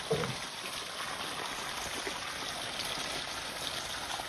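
Irrigation water runs through a pipeline into a groundnut field, a soft, steady, continuous trickling rush that stays even and fairly faint throughout with no voices over it.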